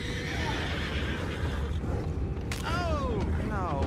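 A horse in Red Dead Redemption 2 whinnies twice near the end, rising and falling, over a steady background murmur of ambient noise and distant activity.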